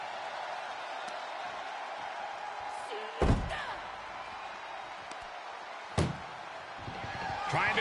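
An ambulance door slams shut in the WWE Unleashed wrestling video game: two loud, sharp bangs a few seconds apart, the second slightly quieter, over a steady roar of arena crowd noise.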